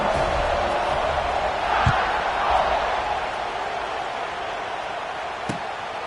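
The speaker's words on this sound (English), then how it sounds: "this crowd is buzzing after that last score" Stadium crowd in a Madden football video game buzzing steadily after a score, a continuous broad roar with a couple of faint thumps, with no clear talk over it.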